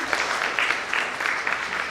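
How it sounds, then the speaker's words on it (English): Applause from the audience at the 42nd International Convention of NRIs in New Delhi, a brief burst of clapping with uneven surges of claps over two seconds. "Can I have a huge round of applause, please?"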